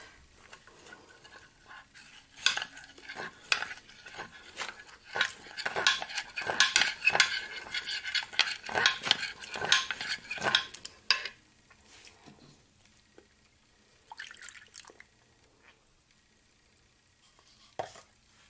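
Cutlery stirs and clinks against a bowl as milk is mixed into a cheesecake batter, a busy stretch of rhythmic scraping and tapping for about ten seconds, then quieter sporadic clinks.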